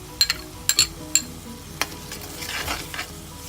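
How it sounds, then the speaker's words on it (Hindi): Ketchup is stirred into macaroni masala frying in a pan, with a run of sharp spoon clinks against the pan, then a soft sizzling hiss as the mixing continues. "अब इसको अच्छे से मिक्स कर लें और इसमें केचप ऐड करते हैं"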